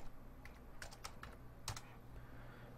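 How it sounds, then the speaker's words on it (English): A password is typed on a computer keyboard: a brief run of quiet, close key clicks at an uneven pace over a low background hum. "We have to type our password in again."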